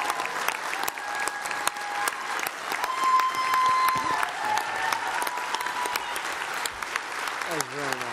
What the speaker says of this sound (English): Give him a giant round of applause